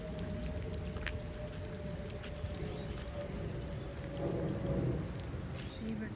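Steady rain pours down outdoors during a walk, a dense, constant wash of drops with a low rumble underneath, rising slightly toward the end, with no one speaking.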